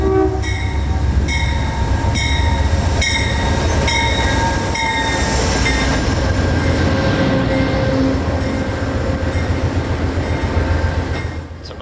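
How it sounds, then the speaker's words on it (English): Amtrak 92, a passenger train out of Tampa, pulls into Lakeland station at night, sounding several loud horn blasts over a heavy, continuous rumble of wheels and engine that carries on alone after the horn stops. "catch Amtrak 92, who was just now getting back out of Tampa"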